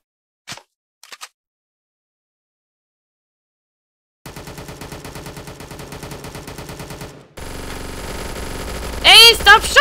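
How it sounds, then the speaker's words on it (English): Gunfire in a VRChat prison escape game: a few isolated pops, then a long rapid burst of automatic fire, a brief gap, and a denser volley with a voice shouting over it near the end. "Hey, stop shooting!"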